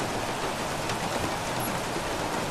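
Rain falls during a race in the F1 2016 racing game, a steady, dense hiss of rainfall with no break and no talking.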